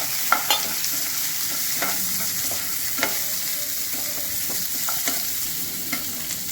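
Chopped large onion frying in a pan as it is stirred, giving a steady loud sizzle with light scraping clicks scattered throughout.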